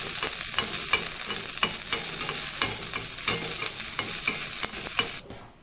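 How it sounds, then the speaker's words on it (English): Green chilies frying in a pan for tambuli, with a continuous crackling sizzle and a regular rhythm of spatula stirring strokes, close and clear, cutting off abruptly at the end. "chilies. Fry for some time."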